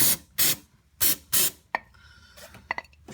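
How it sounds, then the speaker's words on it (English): Brake cleaner is sprayed during an oil and filter change on a 2011 Nissan Altima, in four short loud hissing bursts, followed by quieter clicks and small metallic handling noises. "I'm just going to spray just a little bit of brake clean."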